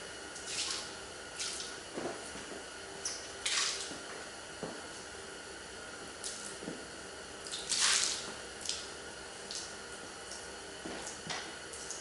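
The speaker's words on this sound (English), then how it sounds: "I don't have a watering can, so I'm just going to dribble this out of the bucket." Liquid floor coating dribbled out of a bucket onto a floor, heard as scattered wet drips and soft splashes at an uneven pace, close and fairly quiet, with no talking.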